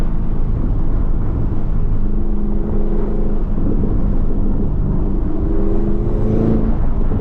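A Chevrolet Camaro ZL1 1LE cruises city streets, its engine a steady, loud low rumble with a faint rise in revs near the end and no talking.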